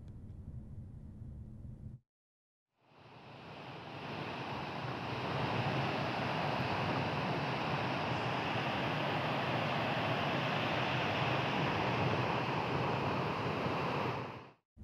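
Floodwater from the Krishna river rushes through the raised gates of the Nagarjuna Sagar dam in a loud, steady roar that fills the scene after a brief silent gap and holds unbroken to the end.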